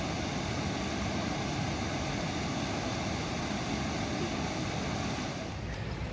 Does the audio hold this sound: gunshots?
no